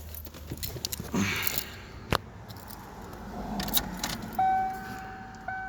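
Keys jangle and clink in short bursts near a car with a new fuel pump, with a sharp click, rustling and a faint electronic chime toward the end.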